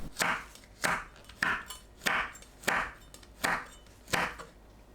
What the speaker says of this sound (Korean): 파, 청양고추, 홍고추를 어슷 썰어주세요.